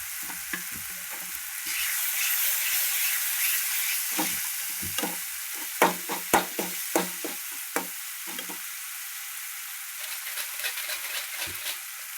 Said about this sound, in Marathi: मसाला किती सुंदर भाजला बघा.